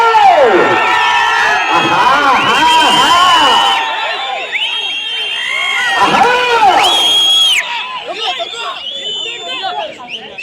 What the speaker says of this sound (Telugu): గట్టిగా కేకలు.